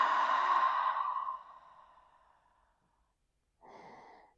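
During a yoga session, one long deep breath is released through parted lips, a soft, close airy whoosh fading out over about two seconds. A brief pause follows, then a shorter, fainter breath.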